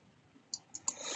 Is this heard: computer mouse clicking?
yes